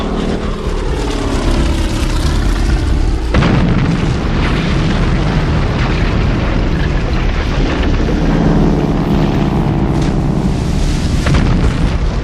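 Bombs exploding during the Pearl Harbor attack on Battleship Row, with California, Oklahoma and Arizona struck. Dense, continuous rumbling booms blend with droning propeller aircraft throughout, loud and sustained, with a heavy burst around the middle.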